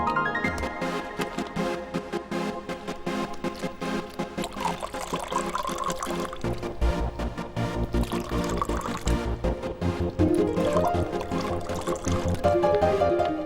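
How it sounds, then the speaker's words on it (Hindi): Water poured into glasses for drinks, a steady trickling and splashing pour lasting several seconds amid background music, fairly close and moderately loud, without voices. "पानी तो डालो।"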